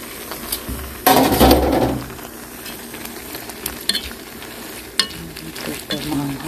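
A coconut milk stew with bamboo shoots and pepper simmers in a pot, bubbling with a low sizzle, broken by a loud stirring scrape and a few sharp clinks of a utensil.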